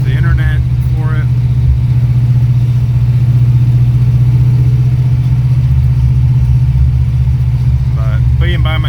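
An LT1-swapped G-body El Camino pulls hard through second gear, its V8 engine droning steadily and loudly throughout, with brief voices at the start and end.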